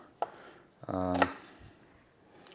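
Vegetables such as onions being chopped on a board for fish stock, a few sharp knife knocks followed by a brief burst of rapid cuts, close in a quiet kitchen.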